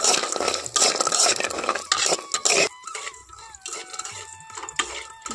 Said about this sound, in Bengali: তেলটা আমার গরম হয়ে গেছে, এখন আমি এর মধ্যে দিয়ে দিচ্ছি কিছুটা বড়ি। বড়িটাকে খুব ভালোভাবেই কিন্তু ভেজে নেব।